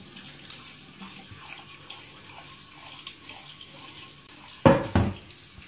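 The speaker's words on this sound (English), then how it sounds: "Step one, fill it with hot soapy water." Faint sink sounds from a kitchen run in the background, then a tap gushes hot soapy water into a frying pan in two short, loud bursts near the end.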